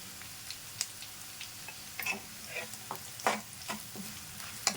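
Green chillies and seasoning fry for poha upma, giving a low steady sizzle broken by repeated sharp spatula scrapes and taps against the pan in an irregular rhythm.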